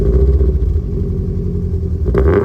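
Subaru EJ20 flat-four engine fitted in a four-wheel-drive VW Golf GTI Mk2, a steady loud low rumble with an uneven burbling throb, briefly rising near the end, with no talking.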